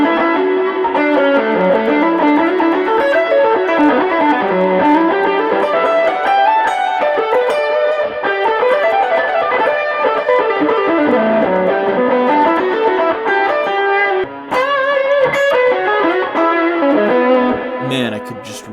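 A heavily distorted electric guitar plays a continuous melodic lead with the noise gate off, loud and sustained, with a hissy, noisy edge throughout and no talking.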